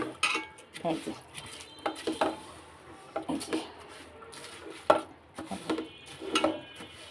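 A knife minces garlic while khichuri cooks, giving a run of soft, irregular chopping taps with light clinks of kitchen utensils. Background talk runs beneath it.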